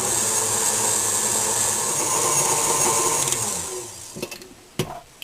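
An electric mixer whirs steadily through carrot cake batter with a loud, even motor drone, then cuts out, leaving a few scattered clanks and knocks from the bowl.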